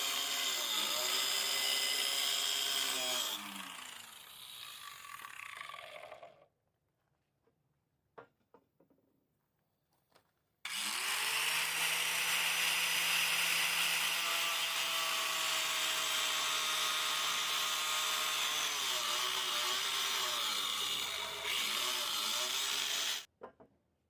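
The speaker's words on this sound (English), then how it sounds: "I'm going to cut this tube right here and right here" A power tool saws through the main hydraulic suction tube of a Case CX160 excavator in two long, steady stretches of loud, high grinding. Between them come a quiet gap with a few scattered knocks and clanks, and the cutting stops abruptly at the end.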